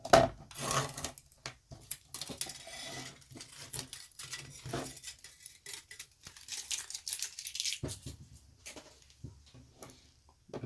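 Laptop screen parts are pried apart by hand, producing close, irregular plastic creaks, rubbing scrapes and small clicks in short bursts with quiet gaps between them.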